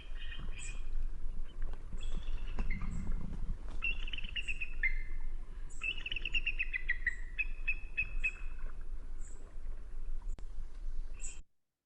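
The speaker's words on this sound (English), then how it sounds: "The bald eagle, a quieter bird than you might expect." Bald eagle calls, a series of thin, high chittering whistles and piping notes repeated through the clip, moderately close over a steady outdoor background with a low rumble near the start.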